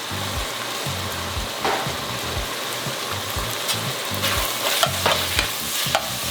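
Ground meat with tomato paste sizzles steadily in a pan while a utensil scrapes and stirs through it in repeated strokes, close and fairly loud, with no talking.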